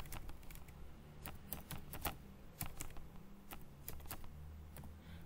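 Someone types on a computer keyboard while writing an Angular unit test. Quick, uneven bursts of close, crisp key clicks come with short pauses between them, and no one speaks.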